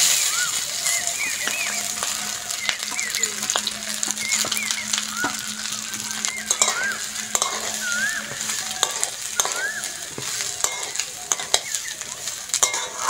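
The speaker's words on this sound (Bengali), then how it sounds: "হালকা করে নেড়ে চেড়ে ভেজে নেবো।" Rice for basanti pulao, tossed with fried cashews and raisins, is stirred and fried in a pan, giving a steady sizzle with scraping stir strokes and faint background chatter.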